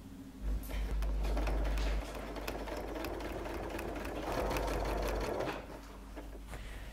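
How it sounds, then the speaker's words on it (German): A sewing machine stitches a zipper into fabric in steady whirring runs, louder at the start, pausing briefly and then easing off, close up with no talk. "Jetzt geht's wieder an die Nähmaschine."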